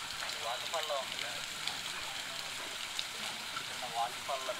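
A small artificial waterfall on Bhavani Island in Vijayawada gives a continuous, moderate splashing rush, with a person talking over the falling water.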